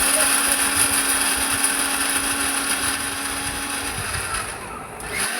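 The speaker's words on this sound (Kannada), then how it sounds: "ಕೊಬ್ಬರಿ ಭೀ ತಣ್ಣಗಾಗಿ ಇದು ಹಾಕ್ಕೊಂಡು ಮಿಕ್ಸರ್ ಜಾರಿಗೆ ಹಾಕ್ಕೊಂಡು ಇನ್ನು ಮಿಕ್ಸಿಗೆ ಹಾಕ್ಕೊಳತ್ತೀನಿ." A kitchen mixer grinder whirs steadily while grinding coconut with water, giving a continuous loud mechanical whine that fades slightly toward the end.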